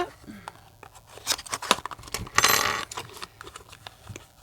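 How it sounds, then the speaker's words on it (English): Safety seal sticker on a cardboard beauty box being cut open, close crisp snips and scratchy slicing with rustling and small clicks, with brief low voice sounds in between. "both ends of the box do have a little safety seal sticker we're gonna have to cut into"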